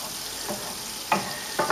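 Finely chopped onion sautés in melted butter in a pan, a soft steady sizzle broken by a few brief stirring scrapes, close and alone without talk.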